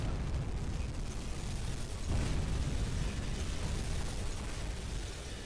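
Torpedo hits on a Liberty ship in the submarine game UBOAT come through as a dense, continuous roaring rumble with a heavier swell partway through, loud and unbroken, with no talk.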